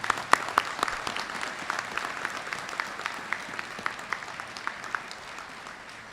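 A graduation audience at Neumann University applauds, a dense wash of many hands clapping that stays steady, then thins and fades slightly toward the end.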